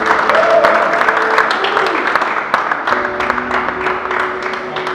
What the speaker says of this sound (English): let's give a big round of applause to the sponsors